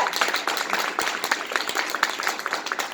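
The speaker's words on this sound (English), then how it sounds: "please give John Curley a round of applause" An audience at a Barnes & Noble book signing in Union Square, New York, claps for author John Curley, producing a moderate round of scattered, fairly close hand claps with individual claps standing out.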